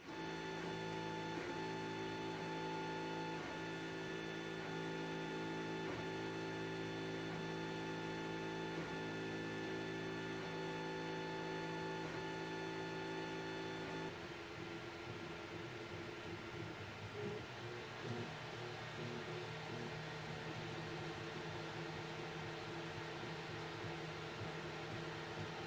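A 3D printer runs after a swap to a silent motherboard, giving a steady mechanical whir with faint tonal hums, then a softer, shifting motor texture partway through. The whole is quiet and continuous, with no voices.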